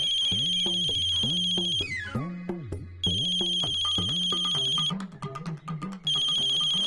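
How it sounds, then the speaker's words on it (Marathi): A phone ringtone plays loud and close, a repeating electronic melody in steady cycles with brief breaks between phrases, heard alone without talk. "आता मी नाही उचलणार फोन अजिबात."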